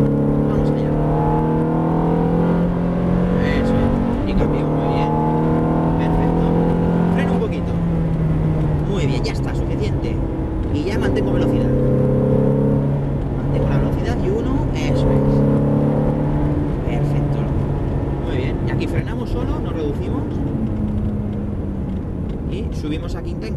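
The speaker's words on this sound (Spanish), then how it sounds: "Levanto el pie del acelerador, coloco el coche sin frenar. Mantengo la velocidad y ahora acelero." A Ferrari F430 on the Jarama circuit near Madrid, recorded from inside the car: the engine note climbs through rising revs, drops at gear changes and climbs again, with a voice talking over the engine.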